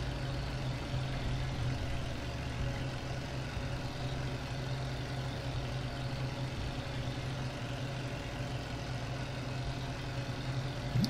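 A tractor engine in Farming Simulator 17 drones steadily while pulling a mower across a meadow, a dense, constant rumble with no change in pitch or loudness and no talk over it.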